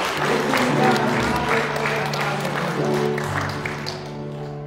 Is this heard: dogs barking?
no